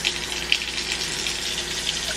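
Water running steadily into a rice cooker pot over a serving of brown rice, a close, continuous splashing stream with a few brighter spatters and no talking.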